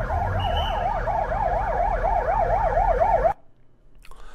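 An ambulance siren wails loudly at the scene of a crowd-crush disaster, its rising and falling tone cycling steadily over engine rumble before cutting off abruptly, leaving quieter background noise.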